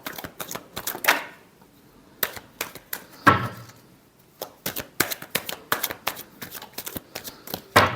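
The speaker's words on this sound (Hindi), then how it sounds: "Last shuffle." Tarot cards are shuffled in quick, crisp bursts of riffling and slapping, close and fairly quiet, with short pauses between the shuffles.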